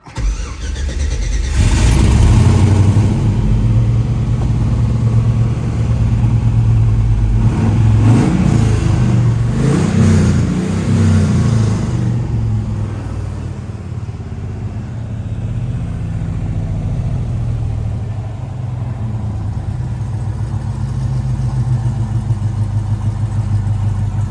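A 1969 Chevrolet Camaro with an LS engine cranks and fires up, rumbles through a few revs, then settles into a deep, smooth idle; loud and close, with no talking.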